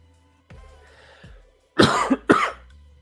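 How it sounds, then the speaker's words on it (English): A person coughs during a wet shaving livestream: a couple of soft throat sounds, then two loud, close, harsh coughs in quick succession. "apologies for the coughing"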